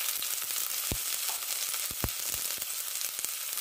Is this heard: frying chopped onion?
yes